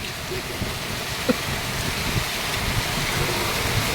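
Steady rain from Typhoon Carina pours down in a continuous close wash, with a few faint knocks and low murmurs of speech under the downpour.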